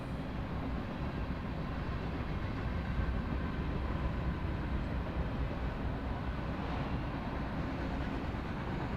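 A freight train rolls slowly through Cajon Pass beneath the I-15, a steady broad rumble of engines and wagons heard from a distance, continuous and even with no voices.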